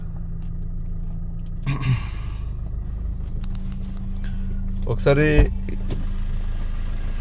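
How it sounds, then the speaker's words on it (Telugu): A 2017 Maruti Ciaz diesel idles steadily after starting, its low engine hum continuing throughout, with a brief voice speaking near the end. "జస్ట్ సింగిల్ సెల్ఫ్కి ఇంజన్ స్టార్ట్ అయిందండి"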